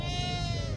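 Sheep and lambs bleat at a livestock market in Maarat Misrin, a dense, continuous chorus of overlapping calls with crowd noise beneath.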